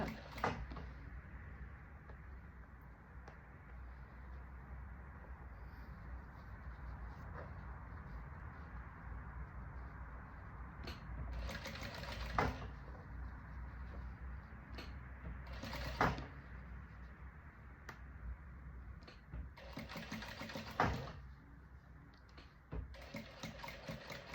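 Sewing machine stitching a vest, a steady low mechanical hum running throughout, with a few brief louder bursts as the stitching speeds up.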